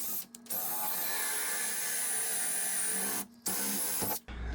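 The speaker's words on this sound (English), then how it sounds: "now we're going to drill in the edge of the door." A DeWalt door lock installation kit bit drills into the edge of a door with a steady, close, high whine. The bit pauses briefly twice and then spins back up.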